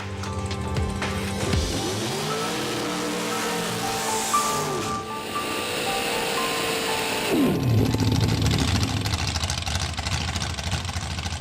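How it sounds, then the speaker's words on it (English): A drag racing car at Santa Pod Raceway, able to cover a quarter mile in under eight seconds, roars loudly and close by, its engine pitch sweeping up and down through revs before surging again near the end. "This car can do a 1/4 of a mile in under 8 seconds."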